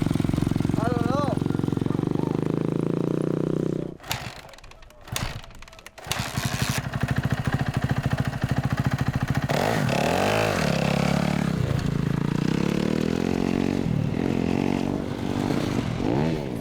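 A motorcycle engine revving with the throttle dropping off between gear shifts, loud and close, with a brief cut in the noise partway through and rising and falling engine tones afterward.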